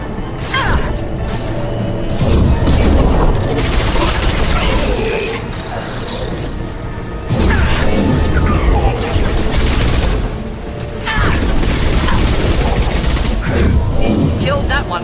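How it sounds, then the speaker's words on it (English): Dense Mass Effect 2 combat with rapid gunfire bursts and booming explosions, loud and continuous with brief lulls, with voices mixed in. "Firing a high-impact shot"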